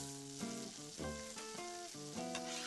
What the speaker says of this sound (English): Smell of frying onion is one of the best smells that I know.